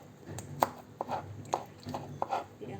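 Metal spoon scraping flesh off a flat mackerel, a run of short, rhythmic scrapes and taps about every half second, close and fairly quiet with no speech over them.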